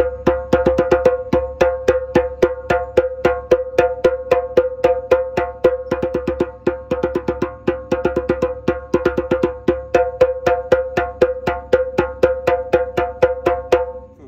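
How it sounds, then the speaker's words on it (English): A hand-played djembe drum strikes a long, rapid run of sharp tones and slaps in a steady rhythm, loud and close, with no voices. "So if I play some tones and some slaps, it sounds like this."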